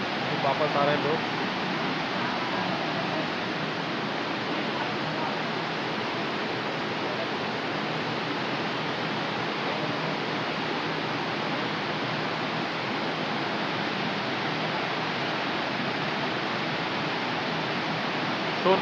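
A waterfall plunging far down between hills, a broad, steady rushing roar without pause, distant and even.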